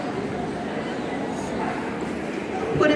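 Dogs bark and yip at an outdoor dog fair during Canine Good Citizen testing, the sound mixed into steady crowd murmur and a handler's voice, with a louder burst near the end.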